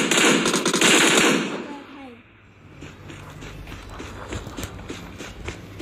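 Rapid bursts of machine gun fire in the video game PUBG Mobile, a loud rattling volley at first, then fainter scattered shots with players chatting over the game sounds.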